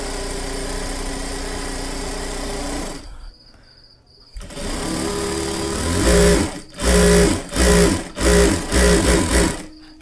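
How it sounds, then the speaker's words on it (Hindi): A sewing machine fitted with a shirring gathering foot runs in loud, steady stitching bursts, stopping briefly partway through and then starting and stopping several times in quick succession. "अब हम चला के देखते हैं कि ये बराबर चुन्नट कर रही है कि नहीं कर रही है।"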